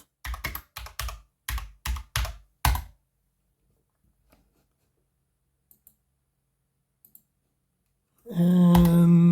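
Typing on a computer keyboard, a quick run of about seven close, crisp key clicks followed by near silence with a few faint ticks, then a sudden loud burst of other sound at the end.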